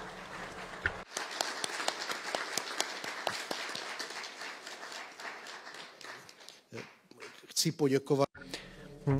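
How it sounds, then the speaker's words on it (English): A conference audience applauds at an international conference on freedom of religion, a dense burst of clapping from a large hall that runs for several seconds, then fades into scattered claps and a speaking voice. "I would like to ask for an applause for them."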